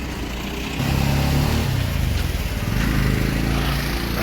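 A motorcycle passes on the NH66 highway near Kasaragod, its engine growing loud and close after a moment and holding a steady, throaty drone with a faint revving wobble until the end.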